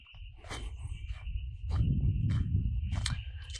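Frogs calling at a pond in a nature preserve, a repeated pulsing chorus over a steady high insect-like drone, with footsteps crunching close by as someone approaches.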